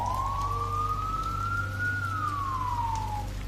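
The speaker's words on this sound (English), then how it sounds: "a siren in the distance." A single siren wails in a slow rising then falling sweep, somewhat distant and moderately loud over a low steady rumble.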